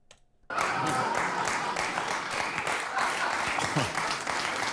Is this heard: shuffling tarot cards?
no